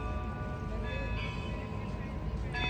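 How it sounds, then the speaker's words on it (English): Church bells ring steadily with sustained, overlapping tones, heard amid the murmur of a crowd and some background rumble, in Tsaritsyno Park, Russia. "Everyone stood and listened as the church bells rang"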